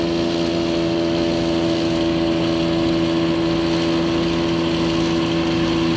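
A loud, steady tractor engine drone during rye haylage harvesting, with a constant low hum and rattling overtones, running continuously without pause or voices.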